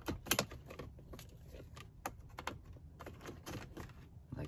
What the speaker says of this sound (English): We're gonna insert it into the ignition.